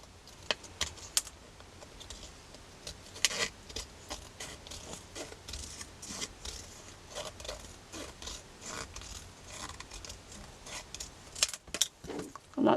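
Scissors snip through a thin aluminium can in a series of sharp, irregular crinkly clicks and scrapes, close up, with quieter pauses between cuts.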